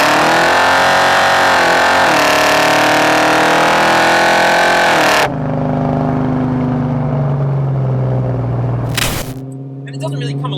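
A car engine drones loudly as it accelerates, revs holding steady around 2,000 RPM while speed builds, then dropping off; a voice speaks over part of it.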